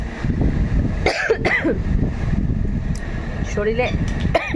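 A person still recovering from typhoid fever coughs a few times in short, harsh bursts, near the microphone, over a steady indoor hum like a fan or air conditioner, with brief vocal sounds between.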